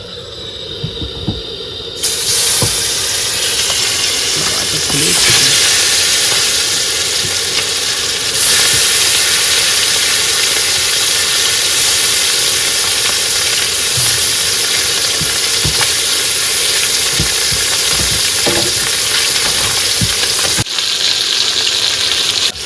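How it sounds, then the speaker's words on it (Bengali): Fish sizzle loudly in hot oil in a wok at an outdoor creekside cooking spot on a rainy day, a sharp hiss rising after a quiet start and holding steady until it drops briefly near the end. "বন্ধুরা তেল কিন্তু গরম হয়েছে, এবার মাছগুলো ভেজে নেবো।"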